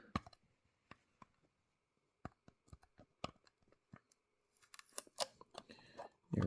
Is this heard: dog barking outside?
no